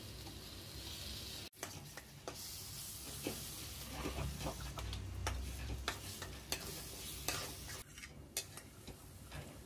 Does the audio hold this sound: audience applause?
no